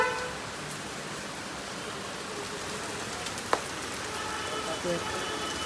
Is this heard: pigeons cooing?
no